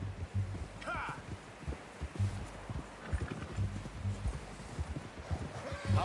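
Horse hooves clip-clopping in a western video game, a steady rhythmic trot of hoof falls throughout, fairly close and moderately quiet, with faint character voices in the background.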